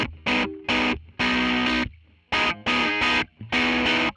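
Guitar strings are slapped through a vintage-style STL AmpHub distortion tone, heard as about eight loud, short crunchy bursts separated by brief silences in an uneven rhythm.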